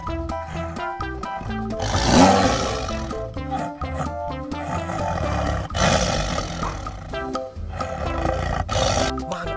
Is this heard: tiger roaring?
yes